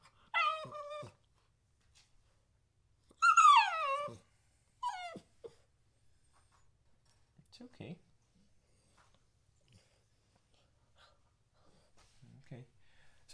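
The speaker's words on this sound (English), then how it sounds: "If your puppy cries like this" A puppy in its crate at night lets out a few high whimpering cries in short bursts separated by quiet gaps, with faint rustling between them in a still room.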